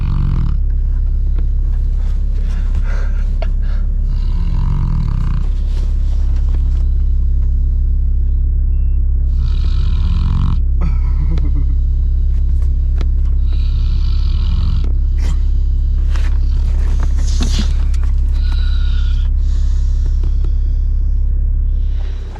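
A vehicle driving around a rural wild-pig hunting property, heavy close engine rumble throughout with clanks and rattles over rough ground, loud and continuous until it stops abruptly at the end.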